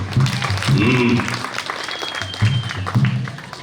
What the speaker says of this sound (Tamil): உற்சாகமாக கைத்தட்டு கொடுங்க பார்ப்போம்.